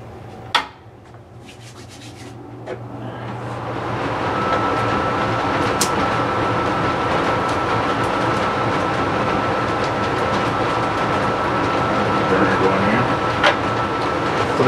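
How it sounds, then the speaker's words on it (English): A laminar flow hood for mushroom culture work runs as a steady, broad whooshing drone that builds over the first few seconds and then holds constant, with a faint click near the start. "I'm going to also turn on my flow hood here."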